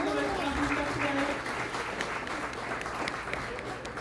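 Audience at a psychedelic conference in Kansas City gives a round of applause, a dense wash of clapping at moderate distance, with some voices and cheers mixed in.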